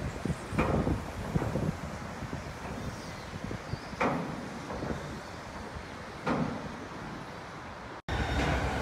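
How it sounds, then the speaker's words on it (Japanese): Yamanote and Keihin-Tohoku line commuter trains running side by side into a station, a steady rumbling rail roar with wind buffeting and a few brief clanks, ending in a sharp cut. "山手線と京浜東北線のガチ並走バトルが 内駅に到着。"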